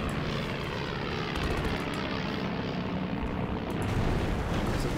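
Aircraft engines drone steadily in the Axis & Allies (2004) strategy game as planes fly a bombing run on an enemy HQ, a loud, continuous roar filling the whole stretch with no talking.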